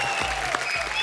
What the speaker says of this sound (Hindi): एक बार जोरदार तालियां मिस्टर शाहरुख खान एंड आलिया भट्ट के लिए।